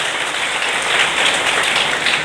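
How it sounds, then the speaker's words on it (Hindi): Students applauding at a coaching institute's IIT-NEET results ceremony, a dense, steady wash of clapping that stays loud and even for the whole short stretch. "तालियां बजा दो भैया आईआईटी वाले,"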